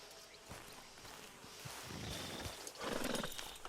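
A horse in Red Dead Redemption 2 snorts and shifts with soft hoof sounds, fairly faint against a steady outdoor background, with no talking.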